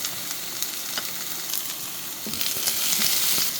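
Onion and garlic sizzle steadily in a little cooking oil, a continuous close hiss with occasional crackles and pops that build slightly louder toward the end.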